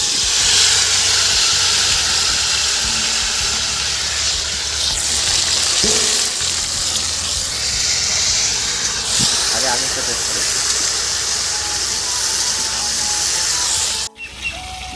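Boroi, dried lentil dumplings, frying in oil for a pickle: a constant steamy hiss with light crackle throughout, a voice talking over it, and an abrupt clatter near the end.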